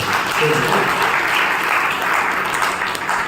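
Audience applause at a Brahma Kumaris health talk, a steady, dense wash of clapping from a crowd that holds evenly loud for the whole stretch with no voices over it.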